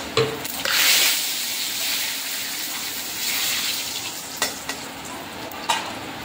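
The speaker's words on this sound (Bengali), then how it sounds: "তেলটা গরম হয়ে যেতে আমি গোটা জিরে ফোড়ন দিচ্ছি" Whole cumin seeds and a bay leaf hit hot oil with a loud crackling sizzle that swells early and then settles into a steady fry, with a few sharp spits and clicks toward the end.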